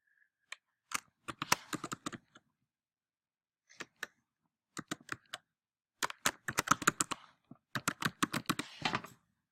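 Computer keyboard keys tapped in short clusters of crisp clicks with brief gaps between them, close and clear against near silence, no voices.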